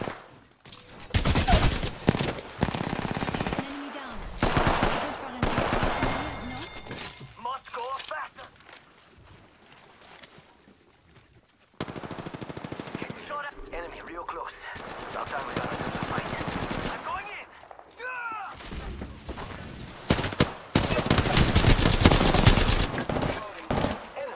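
Automatic gunfire from the Apex Legends battle game bursts loud and close in repeated volleys with short gaps and reload clatter, while voices talk over the fighting throughout.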